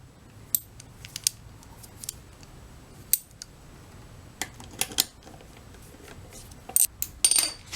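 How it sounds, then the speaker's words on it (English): A 1/4-inch nut being tightened on the ignition magneto of a John Deere 14PZ lawn mower: scattered sharp, close metallic clicks and ticks at an irregular pace, bunching into a quick rattling burst at the end, with no talking. "It's a 1/4-inch nut, and you just tighten it up."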